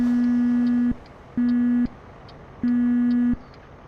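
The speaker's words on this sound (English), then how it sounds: "That's a pretty lousy horn." A truck horn in American Truck Simulator sounds three times, as flat, buzzy tones of about half a second each, loud and close with short gaps between them.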